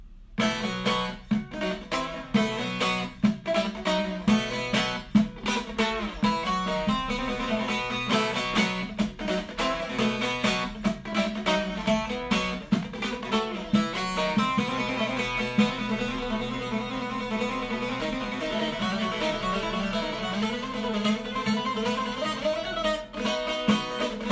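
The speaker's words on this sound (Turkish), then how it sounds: "Aynı parçayı bir de bu bağlamayla çalayım." A short-neck bağlama lute plays a continuous melody with busy, ringing strums and fast runs, loud and close, with no voices.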